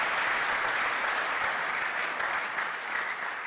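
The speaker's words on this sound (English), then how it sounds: "let's give them all another round of applause for this" A large audience at a Pro Football Hall of Fame and Cleveland Browns Black History Month program applauds, a dense, steady wash of clapping that holds at a strong, even level throughout.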